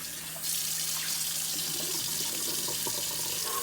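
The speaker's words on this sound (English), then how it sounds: "I'm going to rinse this bowl out to get all that" A bowl is rinsed under a running kitchen tap after soaking potatoes, a steady hiss of water that starts abruptly and keeps flowing close by, alone and unbroken.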